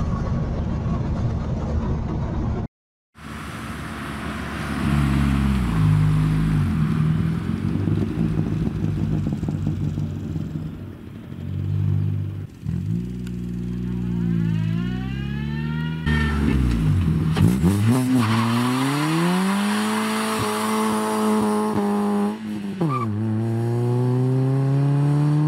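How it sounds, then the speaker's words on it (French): A Peugeot 206 CC fitted with a stainless 4-into-1 exhaust manifold drives a deserted country road, its engine loud and close, revving up and down through the gears with rising and falling pitch over steady wind buffeting. "on se quitte avec quelques petites images de la voiture sur route de campagne déserte"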